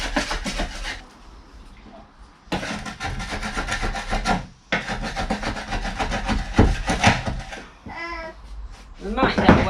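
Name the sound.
chisel scraping old glue off wood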